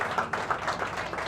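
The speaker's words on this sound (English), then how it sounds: "Give them a round of applause." Brief burst of clapping from a crowd honoring a couple at an evening celebration, short sharp claps close by with no talking over them.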